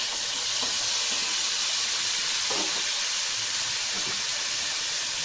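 Green chillies, curry leaves and tomatoes sizzle in hot oil, a steady close hiss with faint crackles and stirring clatter throughout.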